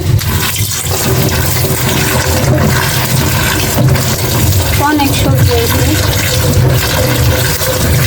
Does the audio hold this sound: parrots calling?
no